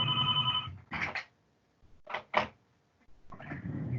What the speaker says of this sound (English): I still have a landline phone.